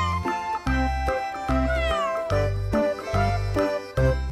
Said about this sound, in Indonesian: Ini adalah kucing